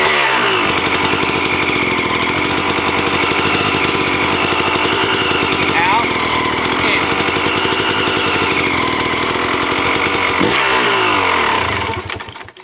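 A motorcycle engine revs hard during clutch engagement, a loud, close, continuous buzzing roar that holds steady for about eleven seconds before dropping away abruptly at the end.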